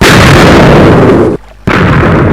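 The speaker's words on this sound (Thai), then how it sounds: "แล้วกดปุ่มขวาเพื่อจุดชนวนในตัว TNT ที่อยู่ด้านหน้าครับ ซึ่งเปรียบเป็นลูกปืนนะ" A TNT cannon fires in Minecraft, with loud, roaring blast noise filling the sound, then a short silent gap before another booming explosion.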